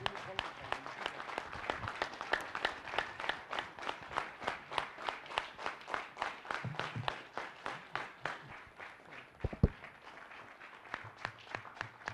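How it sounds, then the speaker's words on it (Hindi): Seminar audience claps in a rhythmic, evenly spaced beat for welcoming a guest, fairly faint and distant, the regular claps fading slightly toward the end with a few stray louder hits. "सो मैं सबसे रिक्वेस्ट करूंगा कि ज़ोरदार तालियों के साथ आप सर को इनवाइट कीजिए।"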